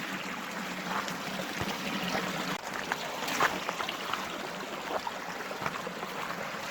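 Water trickles and splashes underfoot as someone steps into a shallow stream outdoors, a steady wet rush with a few sharper sloshing splashes, close to the mic.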